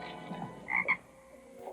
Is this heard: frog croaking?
yes